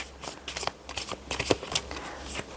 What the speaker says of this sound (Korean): 자, 먼저 우리 3번 분들 카드 섞을게요.